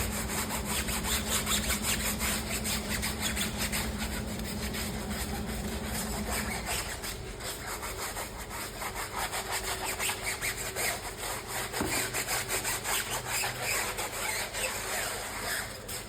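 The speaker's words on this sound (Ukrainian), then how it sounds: "беремо значить, жорстку щітку, наш тайр-бомб і починаємо пропрацьовувати шини" A stiff brush scrubs car tyres coated with tyre cleaner, giving a continuous close, rasping back-and-forth scrubbing that runs the whole time with a slight shift in tone midway.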